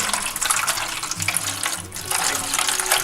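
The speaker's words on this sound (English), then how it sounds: "32 ounces of chicken broth right into the bottom of the pan." Thirty-two ounces of chicken broth poured into the bottom of a turkey roasting pan, a loud, steady splashing gush lasting a few seconds with no talking.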